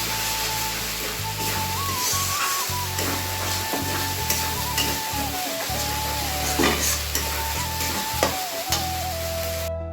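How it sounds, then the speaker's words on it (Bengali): Spice paste goes into hot oil tempered with black cumin (kalo jeere) in a village kitchen, giving a steady, loud sizzle and crackle throughout with stirring scrapes, close up and without talk. "জাস্ট কালো জিরে ফোড়ন দিয়ে এই বাটাটা দিয়ে দিতে হবে"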